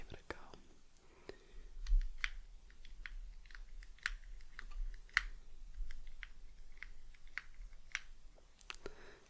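Close, quiet snips of novelty scissors trimming the ends of hair, a string of small crisp cuts at an irregular pace with soft whispering between them.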